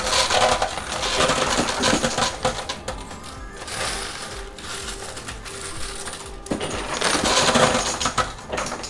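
Chips pour over the edge of a high-limit coin pusher, a dense, continuous clatter and rattle of tumbling tokens that swells loudly in bursts, with crunching and clinking throughout.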